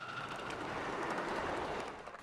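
A miniature live steam train carries riders along its track, a continuous close rolling rumble and rattle of wheels with a faint squeal, steady throughout and without speech.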